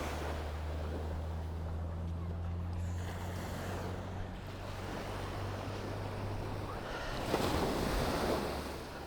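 Sea waves at Karon Beach in Phuket, a continuous wash of surf with wind noise and a low engine hum, and a louder wave breaking near the end.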